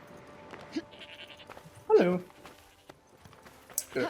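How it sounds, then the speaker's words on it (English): A sheep bleats in the Forspoken video game, one loud bleat standing out midway with faint clicks and game ambience around it, while a person talks over the scene. "Feed the hungry sheep."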